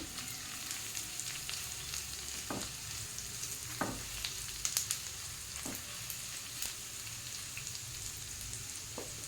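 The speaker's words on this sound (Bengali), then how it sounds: "দুটো কাঁচা লঙ্কা দিয়ে হালকা করে ভেজে" Two green chillies lightly fry in a pan while chow mein is made: a steady close sizzle fills the clip, with a few sharp scraping stirs breaking through. No one speaks.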